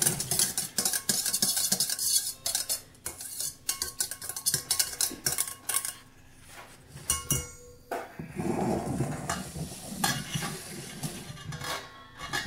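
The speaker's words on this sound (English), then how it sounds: "Now she's gonna mix the wet ingredients up." Wet ingredients for vegan pancakes are mixed in a bowl, with close clattering, scraping and tapping of a utensil against the dish in irregular bursts and brief pauses.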